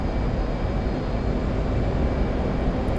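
An F/A-18 Hornet jet takes off in DCS World, a steady, loud, unbroken engine roar that holds at the same level throughout.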